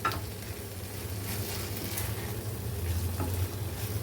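Onion, tomato and green chilli sautéing in a pan for a spicy tomato chutney, giving a steady low sizzle with faint stirring scrapes, close and continuous with no talk.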